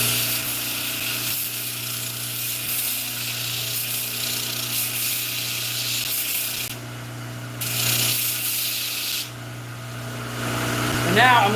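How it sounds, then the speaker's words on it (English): A belt sander grinds the underside of a wooden recurve bow handle, giving a loud, steady abrasive whir with a constant motor hum and short shifts in pitch as the wood is pressed against the belt. "We'll run that belt over just a little bit."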